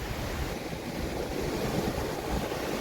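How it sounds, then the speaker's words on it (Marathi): Sea waves washing onto the shore beside a fish market during stormy weather, a steady rushing roar mixed with wind buffeting over a few seconds. "आता लाटा वगैरे येतात समुद्राच्या किनाऱ्याला"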